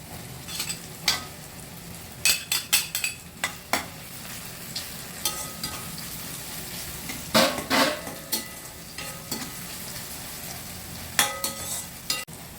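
Ginger frying with softened tomatoes in a pan, a low steady sizzle broken by repeated scraping stirs and sharp clinks of a spoon against the pan, with no talking.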